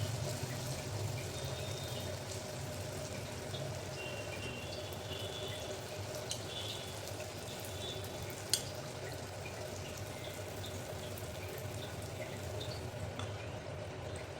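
Anarse, rice flour sweets, fry in hot oil with a soft, steady, even sizzle, quiet and unbroken throughout, with one tiny pop partway through.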